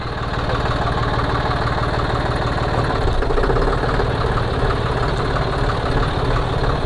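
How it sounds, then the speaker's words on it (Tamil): A paddy harvester's engine runs at a steady idle after being started, a loud, close, throbbing low rumble with constant vibration throughout and no voices. "வண்டியை ஸ்டார்ட் பண்ணியாச்சு."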